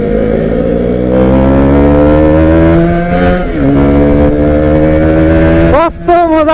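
A motorcycle engine drones loud and close while being ridden, its pitch climbing steadily as it accelerates, with brief dips at gear shifts and a sharp rev near the end.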